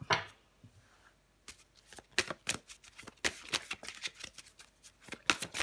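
Tarot cards handled and drawn from a deck, with soft close-up shuffling and a run of crisp card snaps and flicks in uneven bursts, with no talking.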